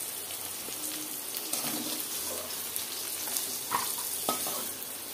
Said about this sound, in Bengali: কলাগুলো ভাজা হয়ে গেছে।